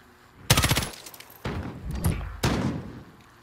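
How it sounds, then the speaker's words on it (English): Machine gun fire in Modern Warfare comes in three loud, close bursts. Each burst is a sharp rattle of rapid shots, and brief gaps separate them. "you get him machine gun"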